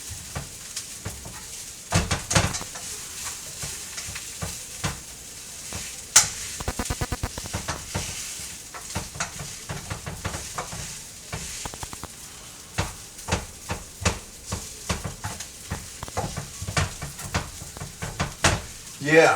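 Kimchi bacon fried rice sizzles in a hot pan while a utensil scrapes and stirs it, breaking up chunks with irregular clatters over a steady, close frying hiss.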